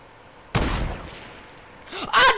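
Gunfire in a video game: one sudden loud blast that decays into a booming rumble, followed by a second burst of shots near the end, close and forceful.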